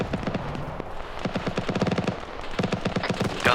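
Rapid bursts of .50 caliber machine gun fire from a video game, loud and close, with repeated short volleys separated by brief pauses.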